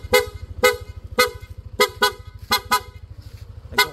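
A PIA dual horn fitted to a Yamaha NMAX V2 scooter honks in a rapid series of short, loud, close blasts over the scooter's idling engine putter, with about eight toots in quick succession.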